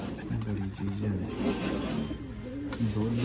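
Pigeons kept for a pigeon-flying competition coo in repeated low, throaty phrases close by, with people talking over and between the calls.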